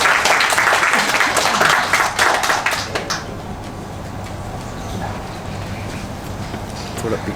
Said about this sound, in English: We can hear the applause a little louder after the lunch